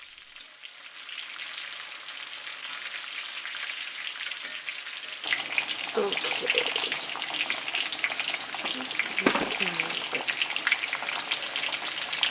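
Chicken browning in hot oil gives a steady, dense sizzle and crackle throughout, with a brief spoken word near the start and light stirring or shifting sounds partway through.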